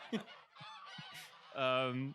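A human voice imitates geese honking during a tabletop fantasy game session, giving a quick run of nasal honks that ends in one longer, louder drawn-out honk, close and clear.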